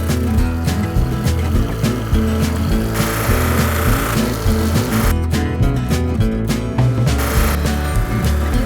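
A buffing wheel spinning while it is cleaned during knife making, a loud continuous whirring grind with a steady rough texture and shifting rubbing tones, with no voices.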